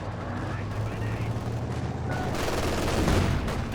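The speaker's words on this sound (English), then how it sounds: "good grenade from the officer" An officer's grenade explodes amid ongoing battle in Company of Heroes 2, a loud blast rising near the end over continuous gunfire and rumbling combat noise.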